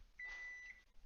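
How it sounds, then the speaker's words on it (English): A faint kitchen alarm gives a single sustained electronic beep while Armenian shortbread bakes, quiet against a hushed room, followed by a short rustle. "That's my alarm."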